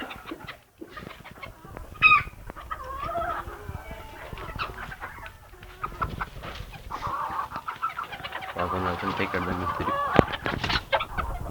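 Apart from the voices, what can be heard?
chickens clucking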